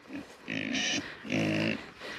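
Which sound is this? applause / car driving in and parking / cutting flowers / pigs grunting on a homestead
pigs grunting on a homestead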